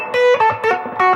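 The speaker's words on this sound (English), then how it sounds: "This is an Angry Mob. I've made a bunch of these. It's a basic straight up distortion." A short burst of distorted electric guitar, an American Deluxe Fender Strat through an Angry Mob distortion pedal into a Princeton Reverb clone, with a few loud, fuzzy notes picked in quick succession, close and upfront.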